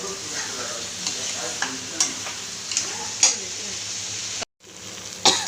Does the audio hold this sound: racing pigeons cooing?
no